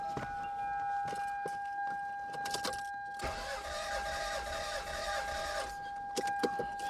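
A car engine cranking on power from a GOOLOO A5 4000A jump starter, a steady churning that runs for a few seconds mid-clip among shorter bursts, with a constant high whine underneath and no talking.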